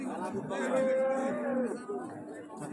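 A cow moos with a long, loud, tonal call at a cattle market for Holstein Friesian cows and calves, close by and clear over faint crowd chatter.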